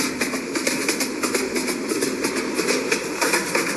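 A train running in a video game, a steady rumbling rail sound with rhythmic clatter carrying on throughout, loud and continuous with no talking.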